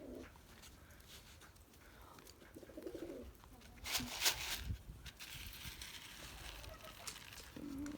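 Pet pigeons at home giving soft, low cooing calls, fairly close, over a busy indoor background with faint rustling and a brief louder flurry in the middle; a voice is heard faintly.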